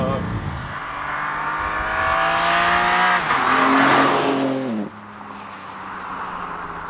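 BMW M2 driving: a close engine note climbs steadily in pitch as it accelerates and revs hard, then drops away abruptly, leaving quieter rumble.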